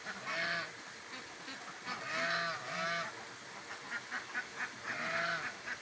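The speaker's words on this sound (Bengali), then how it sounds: "দেখুন রাজহাঁস দুটো আবার চেক করছে," A pair of geese honking beside rising water, a series of loud, nasal calls in bursts, some overlapping, with short pauses between, fairly close and without voices.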